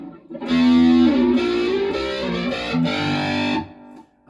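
A guitar played through a pedal set to distortion with echo rings out as a sustained, gritty melodic line of several notes that fade into trailing repeats, loud and without talk.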